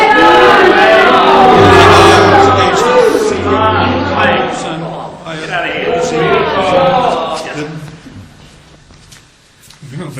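An unhappy crowd in a movie scene shouts, bellows and jeers at a performer, a dense wash of many voices loud throughout, easing slightly toward the end.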